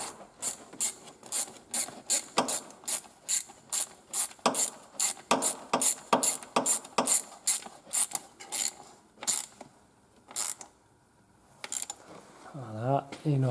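A ratchet tightens a plastic part on a leaking Ford Fiesta gearbox with a long run of quick, evenly spaced clicks that pause and then resume in shorter bursts near the end.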